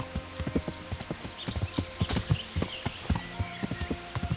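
Horse hooves clip-clop steadily at close range in Kingdom Come: Deliverance, a brisk run of sharp, evenly paced hoof strikes with no talk over them.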